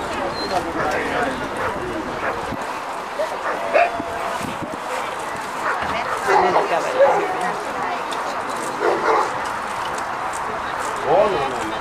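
A dog yips and barks intermittently outdoors, with whimpering sounds, while people talk nearby.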